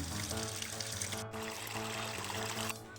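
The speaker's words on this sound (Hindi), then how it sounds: "और कूल से ही पूरे इन धान के खेतों में पानी चल रहा है, देखिए।" Water streams steadily through an irrigation channel feeding hillside rice paddies in a mountain village, a continuous, fairly loud rushing pour with no voices.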